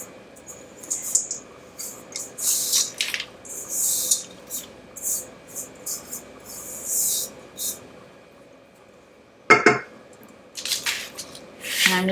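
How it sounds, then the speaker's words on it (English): Cookie crumbs from toffee bar cookie brittle are dumped into a pan, giving a run of soft, scattered rattling and patters over several seconds, then a brief louder clatter before a few last light sprinkles. "So I'm just going to dump out all of my crumbs"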